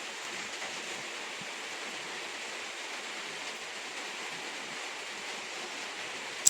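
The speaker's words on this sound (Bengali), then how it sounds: "এই যে আমি জল দিয়ে দিচ্ছি 2-3 কাপ পরিমতন" Two to three cups of water pour into a cooking pot of fried ridge gourd and potatoes for Bengali jhinga posto, a steady, even hiss of running liquid heard alone from start to finish.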